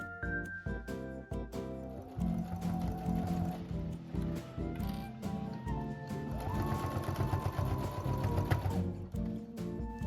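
Close, steady whirring and clatter of a sewing machine stitching lining and outer fabric of a zippered cosmetic pouch, running continuously with slight speed changes and no voices over it.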